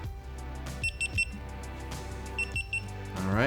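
Two GoPro HERO3 action cameras power on, each giving a short run of high electronic beeps, two clusters spaced about a second and a half apart, over a low room hum.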